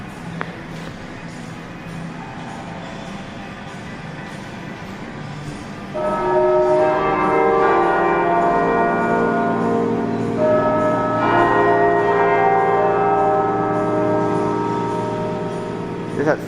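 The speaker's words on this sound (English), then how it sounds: "that's beautiful, really in tune Westminster chimes" Clock bells in a shopping arcade, the Exchange Centre in Nottingham, ring out the Westminster chimes in tune. A quiet hum comes first, then the loud ringing tones sound in two phrases that linger and blend together.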